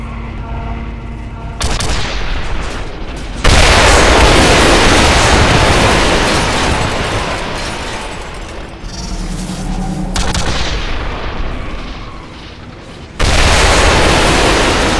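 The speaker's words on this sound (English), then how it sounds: "Kane, hop in the cannon and see if you can't blow open the door to the access corridor." A heavy cannon in the Quake 4 shooter fires at a door to the access corridor, landing as loud booming blasts and rumbling explosions that fill most of the stretch, with sharp new bursts breaking in partway through and again near the end.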